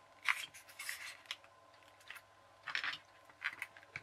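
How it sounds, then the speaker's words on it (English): A piece of foam is trimmed to fit inside an RC jet boat hull, making scattered short snipping and rubbing cuts in small clusters, close and quiet with pauses between. "So I'm just trimming this bit of foam until it fits in nicely."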